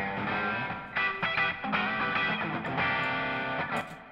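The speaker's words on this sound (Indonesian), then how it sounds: "Pre-delay-nya agak banyak, jadi ada terdengar slap-nya, efek slap delay." Electric guitar runs through a short plate reverb with a slap delay, giving a series of plucked chords and notes with quick echoes at a moderate, fairly quiet level.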